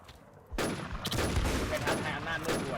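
Rapid gunfire erupts in a video game, dense, loud bursts of shots that start after a short quiet moment and continue almost without pause to the end.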